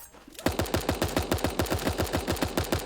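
Tommy gun firing in Super Animal Royale: a rapid burst of sharp, evenly spaced automatic shots, loud and close, starting abruptly and continuing steadily to the end.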